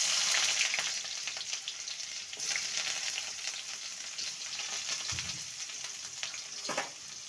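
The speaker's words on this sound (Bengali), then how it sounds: "পেঁয়াজটাকে হালকা ভেজে নেব।" Chopped onions frying in hot mustard oil with whole cumin tempering, a steady close sizzle running throughout with occasional stirring scrapes and no voices.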